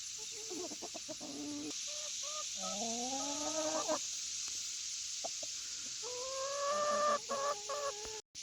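Several chickens cluck and warble in drawn-out rising calls, fairly close, with short sharp clucks scattered between, over a steady background hiss.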